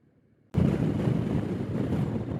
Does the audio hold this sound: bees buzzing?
no